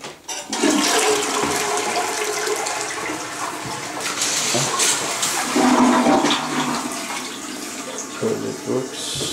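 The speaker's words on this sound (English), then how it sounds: "Toilet works." Household toilet flushing in an interior being inspected, a close rushing gush of water followed by the swirling, gurgling refill, with a voice speaking briefly partway through.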